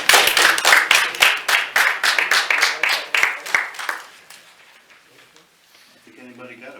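Audience applause at a city council meeting: a dense burst of clapping, fairly close and loud, fading out over a few seconds before quiet voices take over at the end.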